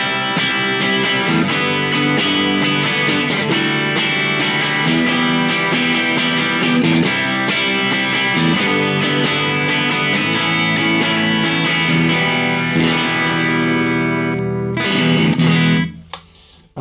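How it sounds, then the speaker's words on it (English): A slightly overdriven electric guitar through an Engl Retro Tube 100 tube amp strums chords in a steady rhythm, loud and continuous, then cuts off abruptly near the end. "It's got that great kind of slightly pushed, slightly overdriven kind of rhythm guitar, strummy rhythm guitar sound"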